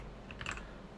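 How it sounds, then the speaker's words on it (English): Rapid clicking of computer keyboard keys during a Minecraft stream, a short burst of presses clustered near the middle of the moment, fairly quiet and close with no talking. "I clicked every button on the keyboard"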